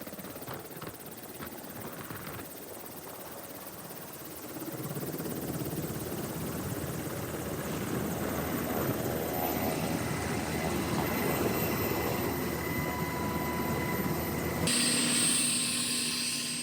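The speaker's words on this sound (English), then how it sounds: "that was our ride there, that Black Hawk helicopter" A Black Hawk military helicopter flies over mountains, its rotor thump and turbine roar loud and steady, swelling louder partway through and then easing off as it departs.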